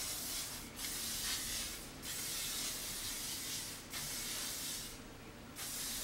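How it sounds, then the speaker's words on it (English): Hairspray hisses from an aerosol can onto styled hair in several steady bursts, each about a second or more long with short pauses between, close and fairly loud. "I am gonna add a little bit of hairspray just to make it last."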